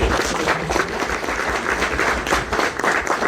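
An audience at a music Q&A for Black Panther: Wakanda Forever breaks into steady, dense applause, many hands clapping together at an even loudness for a few seconds.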